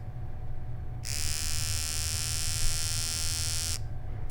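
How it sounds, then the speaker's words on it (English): Electric clippers switch on with a bright, loud buzz after a moment of low background hum, running steadily for nearly three seconds before cutting off abruptly. "And I have my clippers."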